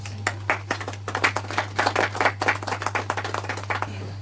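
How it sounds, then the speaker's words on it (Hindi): Audience at a junior quiz show stage event applauds a guest, with a steady burst of hand clapping that rises and fades over a low constant hum. "बस जोरदार ताली हो जाए सर के लिए"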